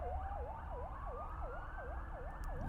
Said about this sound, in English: Sorry about those sirens.